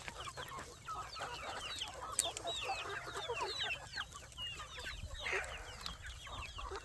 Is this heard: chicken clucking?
yes